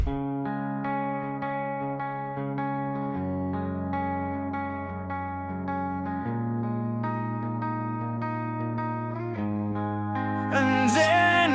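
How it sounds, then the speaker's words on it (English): A sung outro line from a Suno-generated song, its final held vocal phrase treated with an echo effect over steady sustained music, the tail brightening and repeating near the end. "let's try adding an echo"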